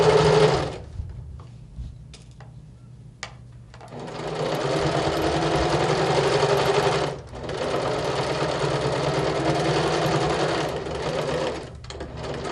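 A sewing machine stitches fabric in a long, loud, continuous run, stopping briefly once when the needle is lowered and the fabric turned, then resuming steadily to the end.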